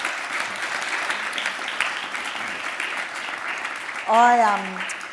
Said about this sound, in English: Give everyone give our panel a round of applause.